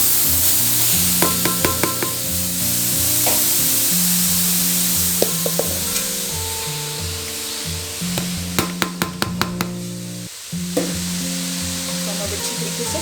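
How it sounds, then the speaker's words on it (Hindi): Grated carrots sizzle and fry in a pot for gajar halwa, with a steady crackling hiss throughout and repeated sharp clinks and scrapes of a spoon stirring against the metal. "इसमें हम गाजर ऐड करेंगे"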